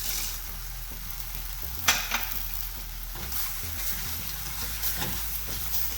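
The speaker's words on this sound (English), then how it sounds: "I'm going to start roasting our peanuts" Peanuts, about a full cup, roasting in a hot pan give off a steady dry sizzle with occasional stirring scrapes and light clicks, close and alone without talk.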